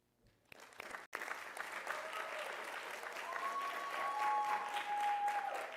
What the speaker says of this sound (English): You please honor them with your applause